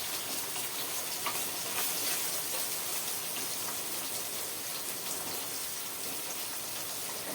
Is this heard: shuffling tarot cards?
no